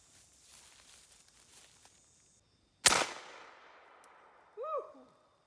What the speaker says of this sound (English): Air Force Texan Beehive Project. Shot pattern test number 1.